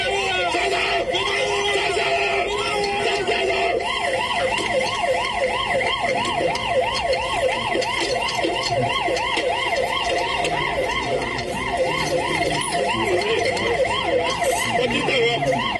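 A police car siren wails continuously and loudly in a rapid rising-falling cycle during a car chase through traffic on Datong Road in Xizhi, Taiwan.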